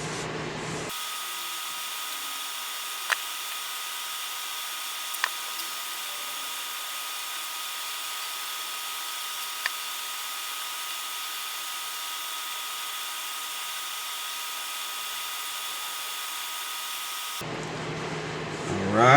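A steady power-tool drone runs nonstop for about sixteen seconds during wet sanding of a finished red cedar live-edge slab, starting and stopping abruptly, with a few sharp ticks over the whir.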